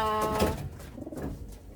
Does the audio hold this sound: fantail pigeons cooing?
yes